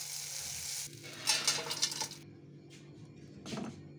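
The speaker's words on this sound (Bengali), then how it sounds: "এই উচ্ছেটাও ভেজে নেব এই কড়াই।" Bitter gourd frying in oil in a wok, with a loud, hissing sizzle and some stirring scrapes for about two seconds before it drops to a quieter, steady frying hiss. No talking.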